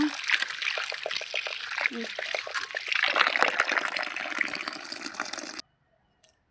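Freshly harvested home-grown ginger being washed by hand in water, a steady close splashing and trickling that runs for about five seconds before stopping abruptly, followed by near silence.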